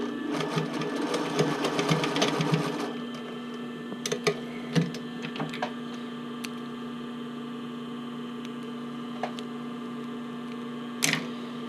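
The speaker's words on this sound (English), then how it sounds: "I'm going to stitch across, straight stitch, just to secure it." A sewing machine straight-stitches across a sports bra strap, a fast rapid whirring burst for about three seconds, then quiet hum with scattered small clicks and a sharp tap near the end.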